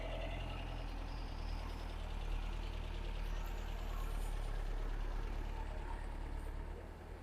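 Mercedes engine running as the car pulls away, a faint steady low rumble with a slight rise in the middle, distant and alone with no talk.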